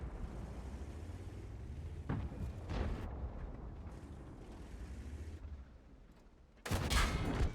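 Cannon fire from tanks in World of Tanks, an AMX 13 FL 11 among them: bursts of booming shots, with a heavy blast at around two seconds and a loud close report near the end over steady battle rumble.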